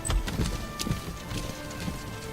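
Horse archers' hooves clip-clopping in the Battle for Middle-earth II strategy game, a quick irregular patter of many hoofbeats at moderate distance, with no talk.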